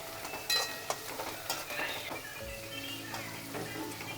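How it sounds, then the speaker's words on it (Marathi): Coriander and garlic fry gently in a pan for a Marathi vegetable dish, a soft continuous sizzle broken by light stirring taps and scrapes. "सोबतच कोथिंबीर आणि लसूण पण टाकून देते. कसं मग सर्व सोबतच फ्राय होऊन जाणार ना."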